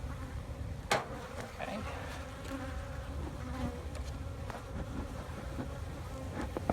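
Honeybees buzz during a beehive inspection, a low and steady hum that fills the whole moment. A voice speaks briefly.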